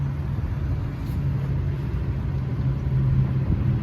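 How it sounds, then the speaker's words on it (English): A steady low engine rumble from an old Buick Skylark with an exhaust leak idles throughout, rough and droning, with a faint hiss riding on top; no voices. "I'm certain this car got an exhaust leak."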